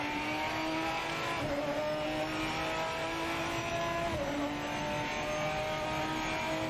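In the racing game Project Motor Racing, a race car engine holds a steady high whine with gear-change dips while the tyres slide through oversteer, a continuous mechanical drone at constant loudness.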